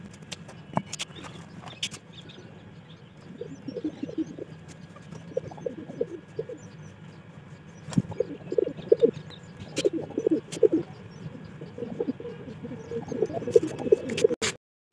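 Pigeons coo in soft, repeated throaty bursts while being let out of their coop, close by, with occasional wing flutters and knocks against a quiet background.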